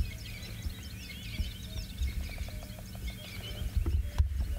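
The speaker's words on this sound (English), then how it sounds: "Actually, there's lots of birds calling." Many birds call at once in the African bush, including francolins, giving a dense layer of chirps and trills over a low hum, with a few sharper calls toward the end.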